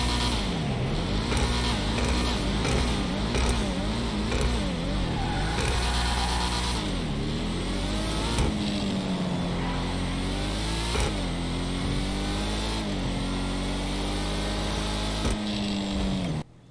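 Apocalypse Nightmare Future Shock ZR380 in GTA 5, its exhaust revving hard and sweeping up and down in pitch continuously, loud and close, with repeated rising and falling engine pulls and shifts throughout.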